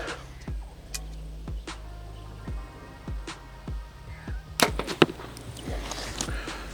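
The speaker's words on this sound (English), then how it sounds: "So I just whacked an arrow as center as I could" Arrows loosed from a Mathews Phase 4 compound bow strike a soft target insert, each a sharp thwack, repeated several times at irregular intervals outdoors, with light wind noise and a denser cluster of impacts near the end.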